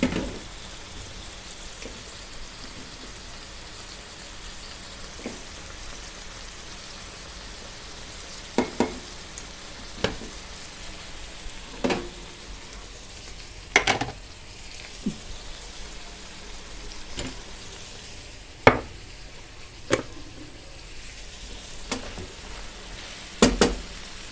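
Cooked meat sizzles steadily in a pan for a Turkish türlü vegetable stew, with a continuous soft crackle and occasional sharper pops and clinks throughout.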